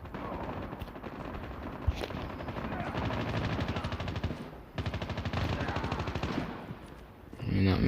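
Gunfire from Call of Duty Mobile, including sniper rifle shots, rattles through dense, continuous battle noise with a sharp crack near two seconds and heavy bursts throughout.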